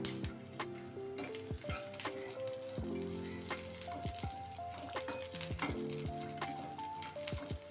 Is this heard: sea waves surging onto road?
no